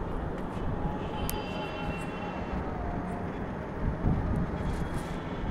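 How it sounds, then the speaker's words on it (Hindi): A metro train passes in the distance, heard from a rooftop terrace as a steady broad rumble with faint squeals, continuous throughout and without talk. "इस टाइम मैं देखिए टेरिस पर हूँ और आपको टेरिस का व्यू दिखा देती हूँ। ये देखिए मेट्रो,"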